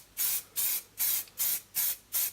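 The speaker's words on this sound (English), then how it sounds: "Just a quick test spray." Spray paint can fired in six short, evenly spaced test bursts while repainting an RC crawler body, each a sharp close hiss separated by brief silences.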